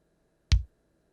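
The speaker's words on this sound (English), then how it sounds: "the sound came from the EMU percussion drum module" A single kick drum hit from an EMU percussion drum module lands once, a short, deep, punchy thump with a crisp attack, isolated in silence.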